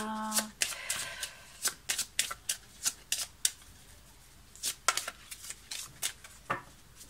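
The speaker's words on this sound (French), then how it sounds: "Je coupe et on va retourner la carte." A deck of astrology cards is shuffled and cut by hand, giving a run of crisp, rapid card flicks and riffles in irregular bursts, close and fairly quiet, with a brief voice at the start.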